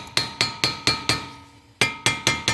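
A hammer taps a wide socket to drive a front wheel hub bearing into a 2008 Nissan Maxima, eight sharp metallic strikes at a steady rhythm with one short pause, close and clear.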